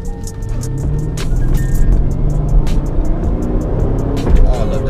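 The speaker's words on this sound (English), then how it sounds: "This car picks up speed so fast." A loud Corvette engine roars and revs up hard, climbing in pitch through a gear, close to the microphone with wind rush.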